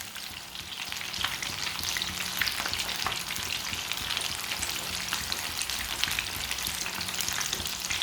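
Chicken leg pieces fry in hot oil with a dense, continuous crackling sizzle, close and steady for the whole stretch, with no voices over it.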